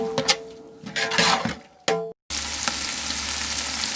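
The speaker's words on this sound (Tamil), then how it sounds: "குடமிளகா பாதி ஃப்ரை ஆனால் போதும்." Capsicum frying in a pan with tomato for idli manchurian: a few stirring clatters and a brief hiss, a short silent gap, then a loud, steady close sizzle.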